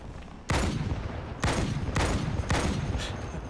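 Gunfire in the Halo 2 Anniversary video game, four loud, sharp bursts of shots about half a second to a second apart, each followed by a rumbling tail, with no talking.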